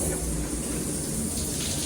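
A rain shower running in the Rainforest spa aboard the Disney Magic cruise ship, a dense steady hiss of falling water, close and continuous with no talking.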